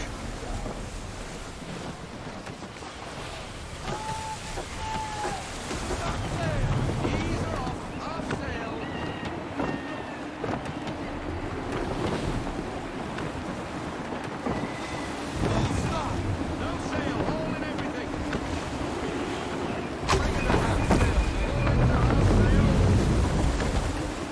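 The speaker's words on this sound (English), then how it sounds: "Gusty winds can be difficult to manage." Gusty wind and breaking waves surge around a sailing ship in the video game Assassin's Creed 3. The rushing wind and sea swell and fade continuously, with occasional voices speaking over them.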